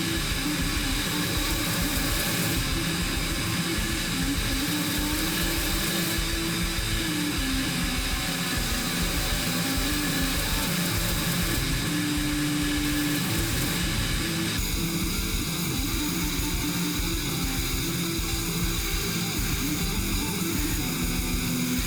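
A grinding wheel shapes G10 knife handle scales in a steady, loud whir that runs unbroken throughout, its pitch dipping slightly whenever the material is pressed against the wheel.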